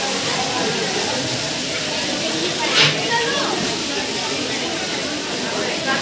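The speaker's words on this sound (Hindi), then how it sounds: "झमाझम बारिश हो रही है" A downpour of heavy rain in Ujjain makes a thick, steady rushing hiss close by, with a brief sharper splash midway and someone speaking beneath it.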